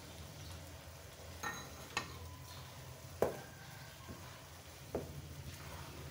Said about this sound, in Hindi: अब यहाँ पे जरा हमने मुसलसल हिलाना है ताकि अंडे पूरे हलवे में मिक्स हो जाएं